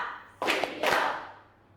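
A classroom of children claps together twice on cue, two sharp group claps close by, each a short burst with a brief ringing tail, then quiet.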